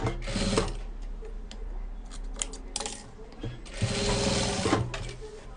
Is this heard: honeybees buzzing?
no